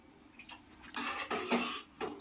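Water splashes and gushes into a pot in a few short bursts, fairly quiet, with no one talking.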